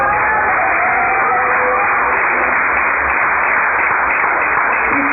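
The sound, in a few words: applause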